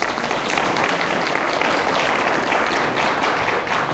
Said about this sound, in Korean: 박수 치려고 확실하게 치세요.